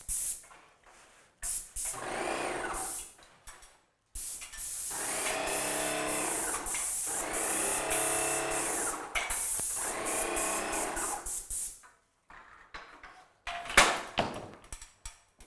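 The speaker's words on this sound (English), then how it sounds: "he's literally painting and cutting in these lines with a paint sprayer" A paint sprayer cutting in lines along wall edges during a house rehab, heard as several sustained hissing bursts of a few seconds each, loud and close, with short clicks and pauses between them and no talking.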